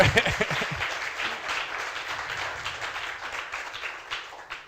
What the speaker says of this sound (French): Formidable, on l'applaudit.